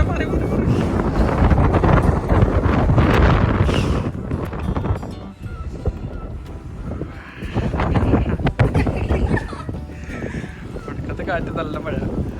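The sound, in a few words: strong wind and rain at Cabot Tower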